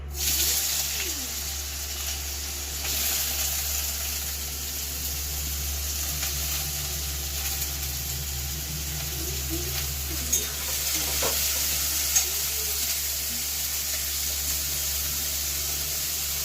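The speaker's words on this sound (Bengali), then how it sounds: "তেল আমার গরম হয়ে গিয়েছে, আমি প্রথমে গাজরগুলোকে ভেজে নেব" Carrots fry in hot oil in a home kitchen, giving a steady, close sizzle that holds throughout, broken by occasional stirring scrapes and small pops against a constant low background hum.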